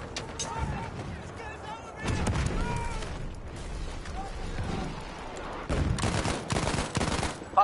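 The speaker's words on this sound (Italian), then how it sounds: "Io gli sparo di già al carro" Gunfire in a competitive multiplayer war video game match in Incursion mode on the Sinai map, with rapid bursts and volleys of shots and heavy blasts. Players talk over the shooting throughout.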